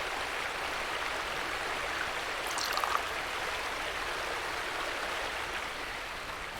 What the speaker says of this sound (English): Let's collect some water.